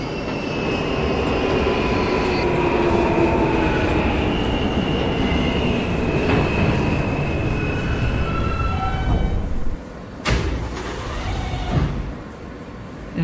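A Roblox R160A subway train runs on the G line, its steady rumble and rolling wheel noise filling the clip, with faint squeals and a brief dip near the end before the loud running resumes.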